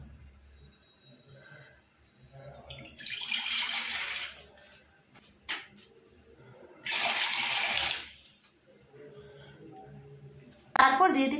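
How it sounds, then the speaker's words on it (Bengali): Two cups of water poured into a pot on a stove for mera pitha, heard as two loud pouring bursts separated by quieter handling sounds, with a brief clatter at the end. "চুলে একটি হাঁড়ি বসিয়ে দিয়ে দিচ্ছি 2 কাপ পরিমাণ পানি।"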